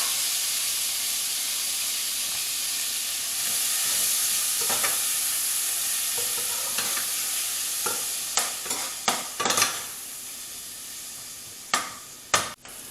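Onions frying in oil in a pan for a chicken and black lime dish, a steady close sizzle and hiss joined later by several sharp scraping stirs and clatters, with no talking.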